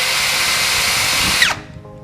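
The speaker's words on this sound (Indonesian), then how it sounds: "Nanti akan keluar suara khas impactnya." Tekiro XV 20V cordless impact driver running with a loud, close whirring and rattling for about a second and a half, then spinning down abruptly into quiet.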